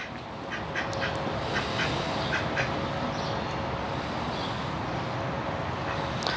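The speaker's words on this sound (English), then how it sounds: "Ooh, it's a duck. I think it's a goose." A duck or goose outside a riverfront motel in Tasmania, giving a few near quacks or honks over a loud, steady wash of outdoor noise that sounds like passing traffic.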